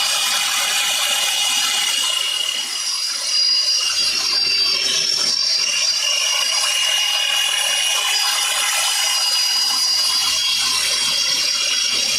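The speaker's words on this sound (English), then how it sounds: "we can honestly finish this off with the handsaw" A Japanese handsaw cuts through wood while building Japanese sawhorses, a steady, close rasping that runs unbroken for the whole stretch with no voices.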